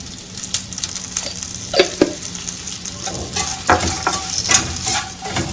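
Okra with asafoetida, turmeric and spices frying in hot oil, a steady sizzle broken by clinks and scrapes of a spoon stirring in the pan.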